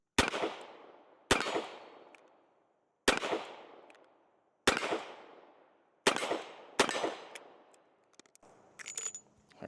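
A Korth Ranger revolver firing .357 rounds, six sharp loud shots at irregular intervals with ringing decay, followed by metallic clicks and handling noise.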